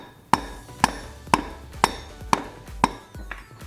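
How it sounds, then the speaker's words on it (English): Seven dull, hollow knocks land at a steady, roughly half-second pace, with nothing else between them, as a rubber mallet taps a car part during a transmission swap. "Now with a rubber hammer we're gonna hit it a little bit"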